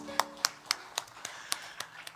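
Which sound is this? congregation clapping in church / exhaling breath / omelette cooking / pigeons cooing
congregation clapping in church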